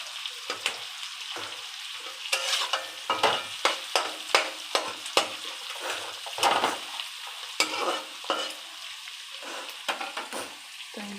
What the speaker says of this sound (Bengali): তো এগুলো লাল করে ভাজা হবে, তারপর মশলাগুলো দেবো।